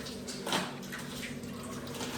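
Water runs steadily from a filter tap with a soft, continuous rushing splash and a brief louder gush near the start; no one speaks.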